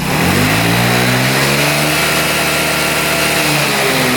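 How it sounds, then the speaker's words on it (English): A scooter engine fitted with a replacement carburetor revs loudly and close up, climbing in pitch and then settling toward a steady idle, with no talking. "That one revs out great."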